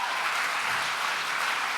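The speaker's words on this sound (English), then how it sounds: "how about a big roaring round of applause for all of our donors thus far?" A crowd at a charity fundraising celebration applauds its donors. The clapping is steady and fairly quiet, a continuous wash of hands heard from a distance without pause.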